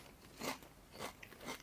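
Three crisp, sharp crunches of teeth biting into Lidl ready salted crisps, close and fairly quiet, evenly spaced about half a second apart with no talking.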